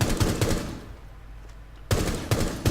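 Gunfire in a video game: a few sharp, loud shots at the start, a quieter gap, then another burst of rapid close shots near the end.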